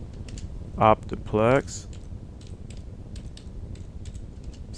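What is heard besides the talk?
typing on a computer keyboard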